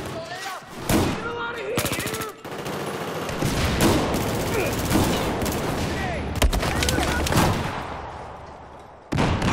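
Rapid automatic gunfire and bursts of shooting from the video game Battlefield 4, loud and dense with overlapping shots and brief pauses, a voice occasionally talking over the action.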